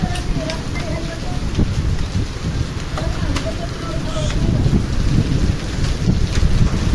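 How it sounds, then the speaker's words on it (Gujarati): Steady heavy rain with hail pours with gusting windstorm winds in the height of summer, a dense broadband roar throughout, with scattered sharp clicks of hailstones striking and a voice speaking underneath. "કરા સાથે વરસાદ પડી રહ્યો છે"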